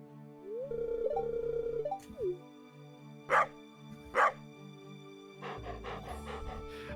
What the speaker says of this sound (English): if you pause the game while the dog is in the middle of barking, he just sits there vibrating